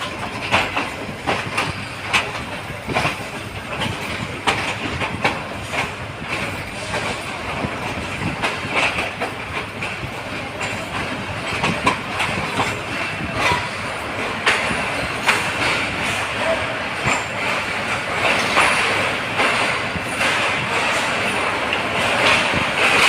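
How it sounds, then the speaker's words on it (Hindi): A train at Lahore railway station at night, loud and close, with rhythmic clickety-clack of wheels over rail joints and a steady rumble of carriages rolling through for the whole stretch. "ये है जी लाहौर का रेलवे स्टेशन।"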